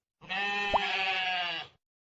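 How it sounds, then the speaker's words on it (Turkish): A sheep bleats once in an animal sound puzzle game, a clear, close, wavering cry held for about a second and a half, then silence. "Koyun."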